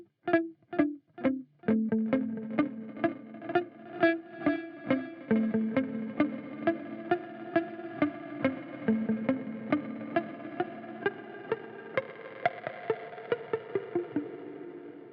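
Guitar notes through a Meris Polymoon modulated delay with dimension turned up, picked in a steady run while the repeats smear into a dense, reverb-like wash that builds over the passage.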